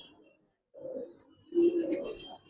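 Pigeons at a Dhaka farm coo in two soft, close bursts, low throaty calls separated by a brief silence.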